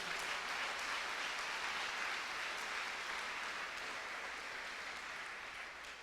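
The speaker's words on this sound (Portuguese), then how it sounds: "Mais alto as suas palmas" A church congregation claps together in steady, dense applause, loud and sustained for several seconds before easing off slightly at the end, with no voices rising above it.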